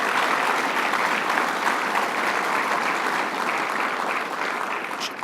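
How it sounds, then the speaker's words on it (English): A crowd at a public event in Plattsburgh gives Assemblywoman Janet Duprey a sustained round of applause. The clapping is dense, even and loud and continues without a break for several seconds. "Let's give her a round of applause, Assemblywoman Janet Dupree."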